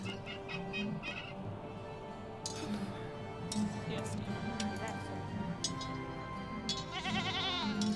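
A goat bleats as it is killed in the strategy game 0 A.D. Alpha 23, amid game sounds and background music, the cry rising near the end with a wavering, shaky quality.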